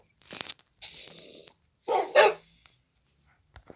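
A dog in Minecraft barks a few times in quick succession, short sharp yelps followed by a louder double bark, then quiet.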